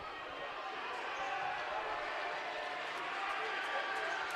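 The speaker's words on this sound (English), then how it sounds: "A lot of cheering here from that student section of Sioux Falls Lincoln" Student section of Sioux Falls Lincoln cheering at a high school basketball game against Yankton, a steady, loud wash of crowd noise filling the gym throughout.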